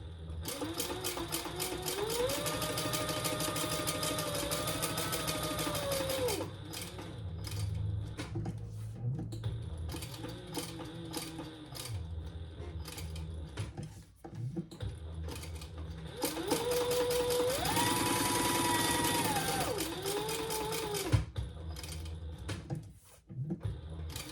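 A sewing machine stitches all the way around bag pieces with light interfacing inside, two long close bursts of rapid needle rattle with a rising and falling motor whine, separated by a pause with soft handling clunks.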